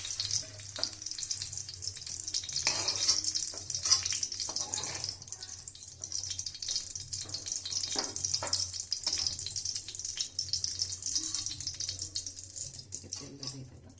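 Paneer fries in hot oil with a crackling sizzle, mixed with splashy watery sounds and irregular bursts throughout, moderately quiet and close with no talking.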